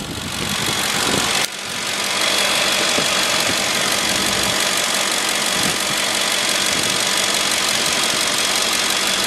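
A 2008 Lincoln Navigator's 5.4-liter V8 with 160,000 kilometers runs at a steady idle, recorded close and loud with a constant mechanical drone and faint knocking, after a brief jolt near the start.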